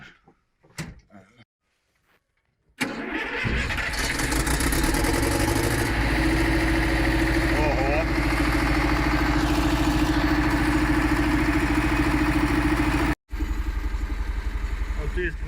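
A newly fitted engine in a combine harvester is started during harvest: a few clunks and brief cranking, then it catches into a loud, steady, rumbling idle that holds close by and cuts out briefly near the end.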